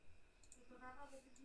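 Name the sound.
computer mouse click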